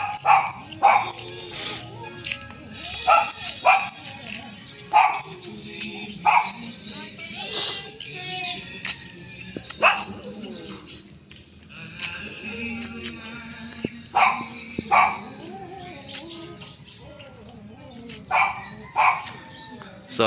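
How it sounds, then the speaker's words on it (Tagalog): Dogs bark outdoors in repeated short bursts, some moderately close and others farther off, spaced irregularly over a quiet background with occasional voices nearby. "may dog sila doon nasa taas"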